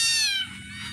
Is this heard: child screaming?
no